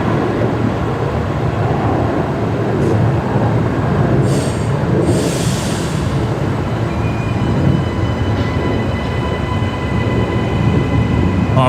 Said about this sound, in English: we can hear the air train departing below us as well